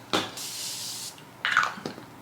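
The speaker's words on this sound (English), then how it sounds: "We're just gonna finish off with this Morphe Continuous Mist" Morphe Continuous Mist setting spray released as a long, steady hiss lasting about a second, then a second shorter spritz, close up with no talk.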